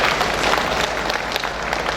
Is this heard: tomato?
no